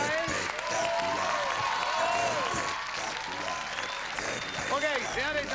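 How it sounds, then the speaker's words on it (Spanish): Studio audience applause for comedian Diego Capusotto on a 2007 television show, a dense sustained clapping with cheering and voices mixed in throughout. "el aplauso para él"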